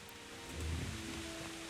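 Heavy rain pours steadily in Kingdom Come: Deliverance, a broad continuous hiss of downpour with a low swell midway and a faint tonal hum underneath, no voices.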